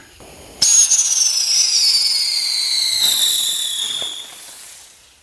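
A Fourth of July Roman candle fires with a sudden loud whoosh, then a bright, steady whistling hiss that slowly drops in pitch and fades, with a couple of faint distant pops underneath.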